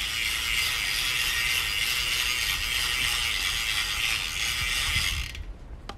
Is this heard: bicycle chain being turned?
yes